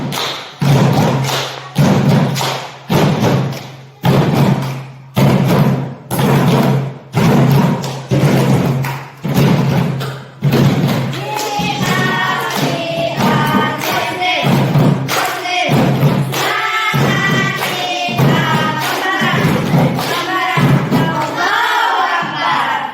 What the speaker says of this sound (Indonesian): Ice breaking tepuk apa dulu? Tepuk semangat.